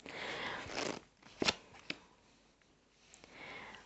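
Tarot cards rustle and slide against each other, with a couple of sharp snaps as cards are pulled from a deck, close and quiet, no talking.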